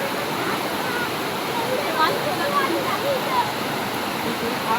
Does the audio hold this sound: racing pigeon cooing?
no